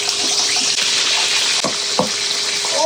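Oil sizzles and crackles steadily around a chicken leg frying in a pan, with a few sharper pops and spatters, close and fairly loud.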